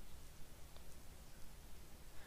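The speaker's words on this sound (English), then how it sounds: "It was raining." Steady, even hiss of rain in an animated cartoon, soft and constant throughout with no thunder or voices.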